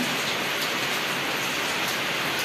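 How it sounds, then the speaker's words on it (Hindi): Heavy monsoon rain pours down in a steady, dense hiss, loud and close, unbroken throughout with no voices. "लाइट तो गई क्योंकि बारिश हो रही है सुबह से"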